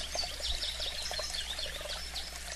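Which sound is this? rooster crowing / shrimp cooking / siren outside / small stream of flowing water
small stream of flowing water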